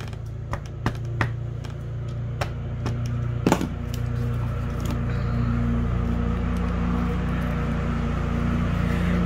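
A lawn mower cutting grass outside drones low and steady in the background, faint and distant indoors, with a few sharp clicks and knocks from nearby handling at the start.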